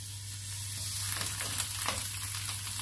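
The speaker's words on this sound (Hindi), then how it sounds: "ऑयल गर्म हो गया है, लहसुन अदरक का पेस्ट डाल देंगे।" Steady crackling sizzle of garlic-ginger paste frying in hot oil for fish yakhni, a continuous close hiss with small pops, and a low hum running underneath.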